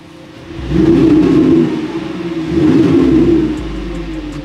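A Ford Mustang 2.3T plays its Maxhaust active exhaust sound through a speaker, two loud swelling revs with a deep rumbling, throaty tone, each rising and fading over a second or so, close by with no talking.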